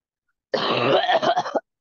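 A single raspy cough and throat clear during a scream vocal session, one close burst of about a second with a few choppy pulses at the end, heard alone in silence.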